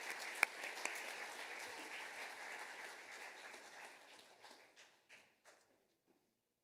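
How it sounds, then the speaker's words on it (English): School awards audience clapping for teachers, a moderate burst of applause that thins out and dies away into scattered last claps. "let's just give a big round of applause for the teachers in the school"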